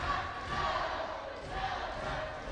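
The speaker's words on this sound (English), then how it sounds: "the Boerne faithful chanting their team" Boerne boys basketball fans chant for their team at a regional semifinal game in Corpus, a steady, dense roar of crowd voices filling the gym without a break.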